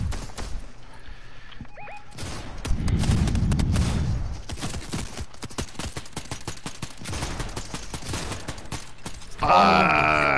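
Gunfire in a PS4 shooter game: a burst of dense cracking shots runs through most of the stretch, with a low rumbling blast early on and a bright synthetic tone at the end, loud and close.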